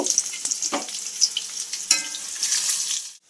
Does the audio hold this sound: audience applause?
no